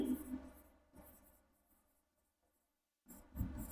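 Writing on a board during an accountancy lesson, heard as faint, short scratchy strokes separated by quiet pauses, alone in a hushed room.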